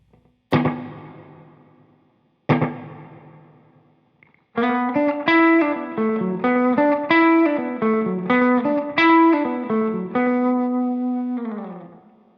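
Two ringing electric guitar chords decay, then a melodic picked phrase plays with ducked delay from a Strymon Timeline tucked softly beneath the notes, swelling as the final chord sustains.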